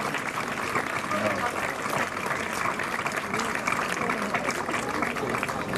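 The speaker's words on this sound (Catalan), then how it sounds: "Un fort aplaudiment per l'escultora Àngels Cantos i el sastre Josep Maria" Sustained, dense applause from an audience at the presentation of the Ball de Titans for the Santa Tecla festival, steady and full throughout, with voices faintly mixed into the crowd noise.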